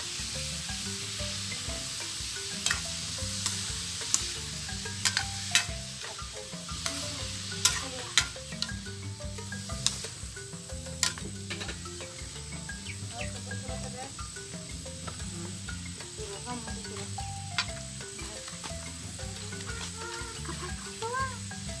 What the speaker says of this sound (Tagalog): ginisa na natin yung ating sibuyas